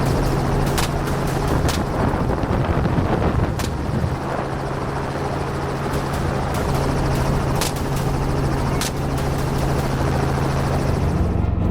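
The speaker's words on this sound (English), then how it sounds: "The helicopter veered in, closing the distance to give us a clear shot." A helicopter flies over a harvested field during a wild boar hunt, its steady rotor drone continuous and fairly close, with periodic sharp cracks and no voices.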